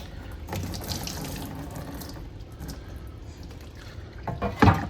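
Transmission fluid draining from the C4 transmission pan of a 1966 Ford Mustang convertible, a continuous close trickle and splash of liquid, with a louder clunk near the end.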